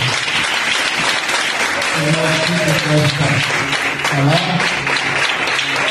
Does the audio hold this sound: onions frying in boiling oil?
no